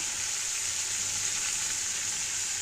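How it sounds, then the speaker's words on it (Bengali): Pieces of chicken sizzle steadily while browning in a hot pan, a close, even hiss of frying with no pauses or voices. "মাংসগুলো একটু ব্রাউন করে নিব।"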